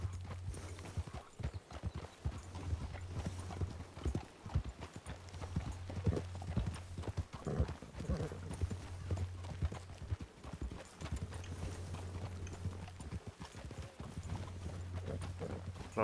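Horse hooves clip-clop steadily in the Western roleplay game RedM, a close, even rhythmic clatter of hoofbeats that continues throughout at moderate level with little else around it.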